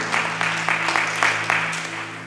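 Clapping from a congregation at a Sunday church service comes in distinct rhythmic bursts, fairly close, with a steady low hum beneath and no talking.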